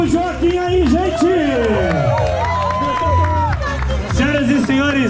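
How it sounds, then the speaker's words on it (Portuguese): At the finish of a children's running race, a crowd cheers and claps for a young runner as he arrives, loud excited voices and shouting dominating, with scattered clapping mixed into the lively hubbub. "Bate palma pro Joaquim aí, gente!"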